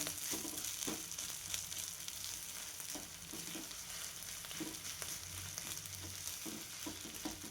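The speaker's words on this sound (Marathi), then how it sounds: "थोडा शेंगदाण्याचा कूट टाकता आहे मी आणि छान परतून घेते" Crushed peanuts sautéing in a pan for a fasting-day dish, a continuous close sizzle broken by regular light scrapes and taps of a spoon stirring.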